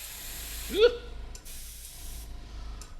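Aerosol spray paint hisses in two long continuous bursts onto a Warhammer lava base, close and steady, with a short gap between them and a brief voiced sound near the start.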